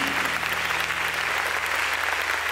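Sustained applause from a congregation at an evening worship service, a dense, steady roar of many hands clapping with a low hum underneath.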